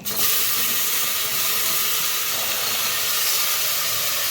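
Vegetables dropped into hot pav bhaji masala in a pressure cooker set off a loud, continuous close hissing sizzle that starts abruptly and holds steady.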